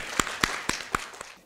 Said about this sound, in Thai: ขอเสียงปรบมือต้อนรับอาจารย์ด้วยค่ะ